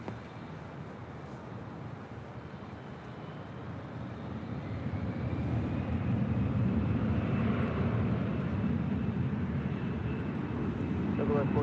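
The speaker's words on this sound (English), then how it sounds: "Next arrival is Alaska Airlines flight 9813 coming in from Honolulu, 737 MAX 9." An Alaska Airlines 737 MAX 9 arriving from Honolulu lands at LAX, its jet roar building from a distant rumble to a louder sustained wash, with tower radio talk over it.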